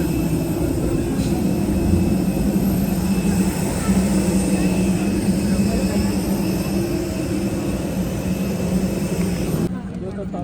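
Inside an airliner cabin on a flight from Nepal to Dubai, the engines drone as a steady, loud low rumble with a constant hiss that continues evenly until it cuts off near the end.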